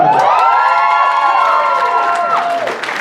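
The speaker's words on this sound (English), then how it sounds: "The last one always gets the biggest round of applause." A graduation ceremony crowd cheers for the final graduate, with loud, sustained shouts and rising whoops from many voices and applause faint beneath them.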